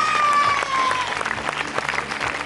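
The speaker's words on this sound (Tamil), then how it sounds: "அவங்களுக்கு ஸ்பெஷல் கைத்தட்டல்" A studio audience on a home-show dance round breaks into dense, sustained applause, many hands clapping together close by, with a faint tone and some voices mixed in.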